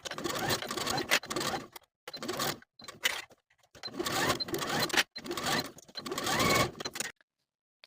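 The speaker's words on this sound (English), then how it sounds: "we're going to sew the neckline and the center front with a 3/8 inch seam allowance" A sewing machine runs in several bursts with short pauses between them, stitching the neckline and center front of a blouse yoke at a 3/8 inch seam allowance. The whir is close and steady.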